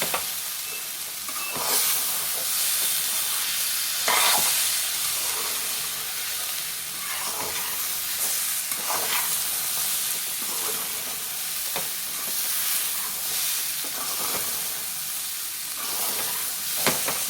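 Tomato and moong dal curry is stirred in a hot pan, with a steady sizzle and hiss of frying under repeated scraping strokes of a spoon, close and continuous with no talking.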